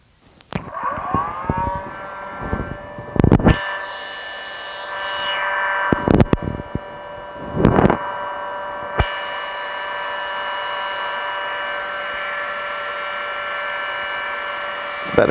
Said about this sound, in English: A bit of a wave of hot air, and they shrink around each group of three